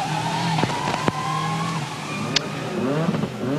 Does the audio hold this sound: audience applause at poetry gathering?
no